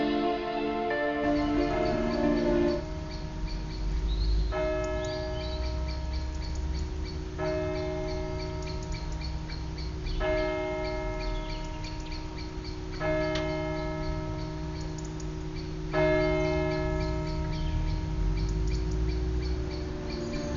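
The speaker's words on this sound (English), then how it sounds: "This tower dates from the 14th century. It houses a ring of 8 bells" The ring of eight bells in the 14th-century tower of St. Peter's church in Alton, Staffordshire, the oldest dated 1746, peals with resonant strikes about every three seconds. The tones ring on and overlap steadily, with no voices.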